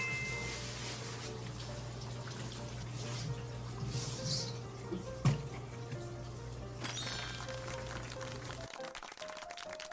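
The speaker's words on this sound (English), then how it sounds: "Now, wash the cutting board." Running tap water pours steadily over a cutting board being rinsed in a kitchen sink during fish filleting, a continuous close splashing hiss with a brief knock midway, cutting off abruptly near the end.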